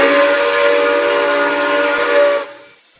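A Nickel Plate Road steam whistle in the Roblox RO-Scale Sandbox blows one loud, sustained chord-like tone for over two seconds, then cuts off abruptly into quiet.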